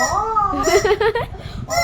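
A chicken gives a short run of warbling clucks close by, lasting barely two seconds over a steady background.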